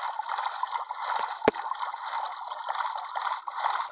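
Water sloshing and gurgling continuously as a character swims across to the far shore in Minecraft, with one sharp click-like sound partway through.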